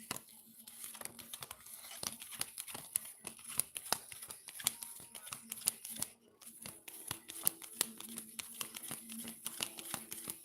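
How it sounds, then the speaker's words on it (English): Tarot cards being shuffled up close, a quick run of crisp riffling snaps and flutters repeating in bursts, with faint background hum. "I need to shuffle my cards,"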